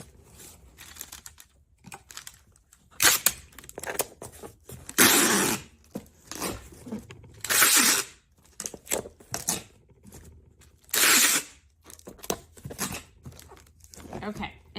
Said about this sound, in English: I'm going to tape them.